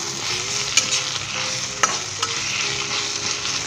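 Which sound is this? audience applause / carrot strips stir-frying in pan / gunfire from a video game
carrot strips stir-frying in pan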